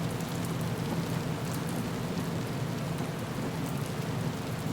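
Steady heavy rain in a storm, a dense, even hiss of drops hitting surfaces that holds constant throughout, close and full with no voices.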